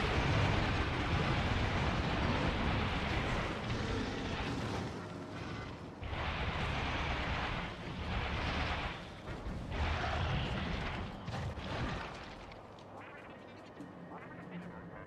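Rockets launching and bursting in Factorio Space Age, a dense, continuous roar of blasts and rumbling explosions with brief dips, loud and close, with occasional speech.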